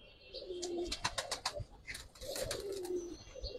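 A pair of silver Mushaldam pigeons coos in soft repeated rolling calls, close by, with sharp clicks and rustles scattered between the coos and no talking.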